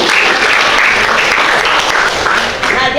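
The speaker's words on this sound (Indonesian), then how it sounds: "kita tepuk tangan dulu" A classroom of students claps together in unison, loud and close, a steady burst of dense hand clapping filling the whole moment without talk.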